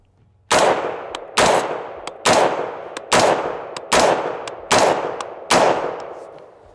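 Seven loud, evenly spaced shots from a SOLGW M4-89 rifle fired outdoors, each a sharp crack with a short ringing decay before the next, no voices.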